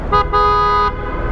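A car horn honks twice beneath an echoing underpass in Cavite, a short toot followed by a longer sustained blare, both loud and close, with the sound ringing briefly off the enclosed walls.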